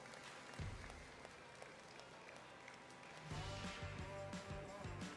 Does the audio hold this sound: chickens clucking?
no